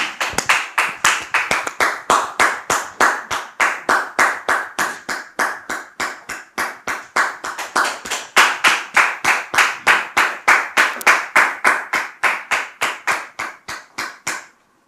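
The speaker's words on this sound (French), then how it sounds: "Sous vos applaudissements, s'il vous plaît." Rhythmic clapping from a TV studio audience, loud and close, a fast even beat of unified hand claps sustained for about fifteen seconds before stopping abruptly.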